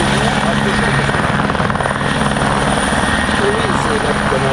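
Helicopter drawing near at the Avord airshow interception exercise, a loud continuous rotor roar and engine whine holding steady throughout, with faint voices beneath.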